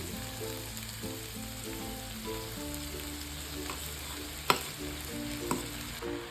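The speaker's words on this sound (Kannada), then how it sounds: "ಇವಾಗ ಇದಕ್ಕೆ ನಾವು ರೆಡಿ ಮಾಡಿ ಇಟ್ಕೊಂಡಿದ್ವಲ್ಲ, ಶಾವಿಗೆ ಬೇಯಿಸಿಟ್ಕೊಂಡಿದ್ವಲ್ಲ, ಅದನ್ನು ಹಾಕ್ಕೊಳ್ತಾ ಇದ್ದೀನಿ" Cooked vermicelli (shavige) stirred into masala frying in oil, giving a steady close sizzle with scraping stir strokes and a couple of sharp clinks from the spoon against the pan.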